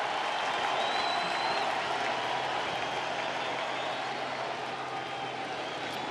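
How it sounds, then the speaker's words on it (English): Stadium crowd at a 2018 World Series baseball game between the Red Sox and Dodgers, Game 3, roaring and cheering in a steady, dense wall of noise that holds for the whole stretch. "This crowd is amped up"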